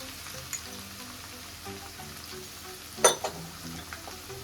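Green garlic, green onion and capsicum frying in a pan for green pav bhaji, a steady soft sizzle with a sharp clatter of stirring near the middle, no voices.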